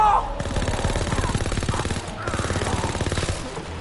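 Rapid machine gun fire in the World War II shooter Call of Duty WW2, two long bursts of rattling automatic shots separated by a short pause, loud and close.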